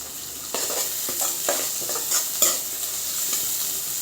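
Chopped onions with ginger paste fry in a pan, with a steady hiss of sizzling oil and several scraping stirs of a spoon against the pan, close and fairly loud, with no talk.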